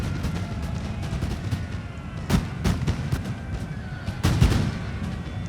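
Cannons boom in a Napoleon: Total War online 2v2 battle, a few sharp distant blasts rising over a steady rumbling battlefield din.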